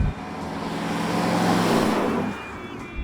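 A Ford Torino with a 4-speed drives along, its engine a steady, fairly loud rumble that swells and holds before easing off near the end.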